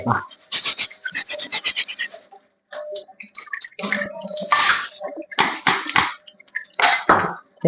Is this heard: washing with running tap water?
yes